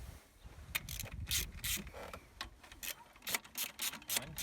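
A 10 mm wrench and ratchet tighten a bolt on the alternator of a 2002 Pontiac Grand Prix with a 3800 Series 2 V6, producing a close run of quick clicking ratchet strokes and metallic scrapes with rustling in between.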